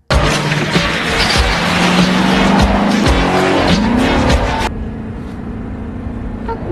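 A film car speeds off with loud squealing, skidding tires and a roaring engine, then the sound drops away abruptly to a quieter engine hum.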